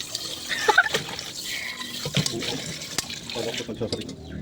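Uncooked rice is rinsed by hand in water, giving irregular splashing and sloshing with short bursts of running water, close by in a home kitchen.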